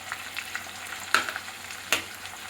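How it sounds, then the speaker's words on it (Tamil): Onions, slit green chillies and curry leaves sautéing in a pan for Tamil tomato kuzhambu, a soft steady sizzle broken by a couple of sharp stirring scrapes. "இப்போ இதையும் வந்து நல்லா வதக்கி விட்டுக்கோங்க."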